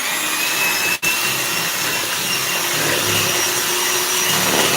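An electric mixer whirs steadily at low to medium speed, beating eggs with sugar for a Dundee cake, a loud continuous motor drone with one brief dropout near the start.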